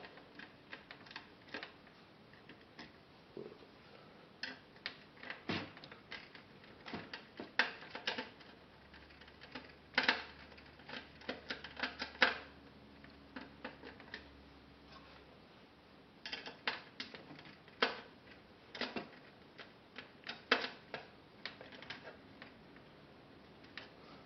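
Screws are being undone on the casing of an MPC 3000 sampler, giving faint, scattered clicks and light metallic ticks in irregular bursts, with quiet pauses between them.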